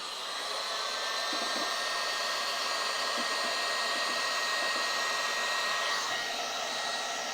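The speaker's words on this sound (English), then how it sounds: "Out comes the hairdryer." A hairdryer blows continuously with a steady, loud whooshing whine that holds at the same level throughout, used as a heat source to shrink tubing while changing guitar pickups.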